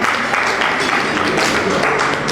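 An audience applauds as a chartered accountant walks on stage at a public event, a dense, steady wash of clapping sustained throughout.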